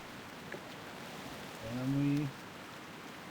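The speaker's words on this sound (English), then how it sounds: "I wish that it wasn't raining because sort of that background noise is a little bit distracting" Steady soft hiss of rain falling in World of Warcraft, a constant wet patter under a man's brief speech, with a short tonal game sound rising partway through.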